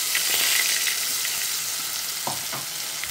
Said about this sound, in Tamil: இப்போ கடுகு பருப்பெல்லாம் வறுத்துக்க ஆரம்பித்தாச்சு.